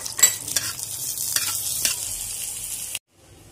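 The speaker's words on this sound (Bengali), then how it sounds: "শুটকি মাছগুলো দিয়ে কিছুক্ষণ ভেজে নেব।" Dried ribbon fish frying in hot mustard oil in a pan, a steady bright sizzle with a few sharp spatter bursts and scraping stirs, close and loud, cutting off abruptly near the end.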